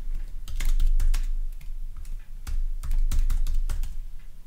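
A name is typed on a computer keyboard in quick bursts of close, crisp key clicks with short pauses between groups, and no voices.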